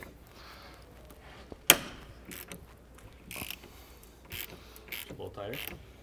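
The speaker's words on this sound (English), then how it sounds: "These don't have too much torque on them, so loosen them up." A ratchet wrench clicks in short bursts while loosening tie rod nuts on a BMW steering rack, with a sharp metallic clank near the start and intermittent ratcheting afterward in a quiet workshop.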